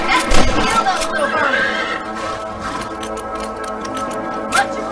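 A horse whinnies loudly up close in the Red Dead Redemption video game, one clear call over game ambience, with a brief sharper horse sound near the end.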